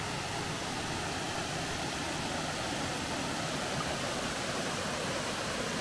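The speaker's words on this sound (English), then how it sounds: "got a pretty little waterfall here alongside the trail." A small waterfall beside a trail at Opossum Creek rushes in a steady, close, broadband wash of splashing water with no pauses.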